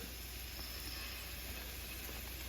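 Onion straws frying in vegetable oil held at about 275 degrees, a quiet, steady, even sizzle and hiss heard close and alone with no talking.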